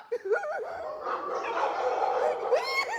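Dogs bark and yip in short, excited bursts with some whimpering, fairly close and loud, in a Hindi comedy TV episode scene.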